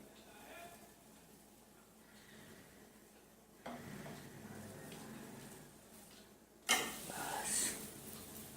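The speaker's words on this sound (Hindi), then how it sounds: "ये मैंने तवा गरम कर लिया है और इसमें मैं इसको डाल दूँगी।" A jaggery paratha hits a hot tawa in a home kitchen with a sudden, loud sizzle near the end, after several seconds of quieter handling and scraping.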